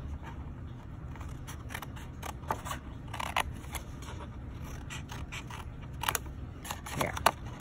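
Scissors trim pieces off a craft treat holder built around a Jelly Belly bottle, with repeated sharp snips and rustling handling of the material up close over steady low background noise, no speech.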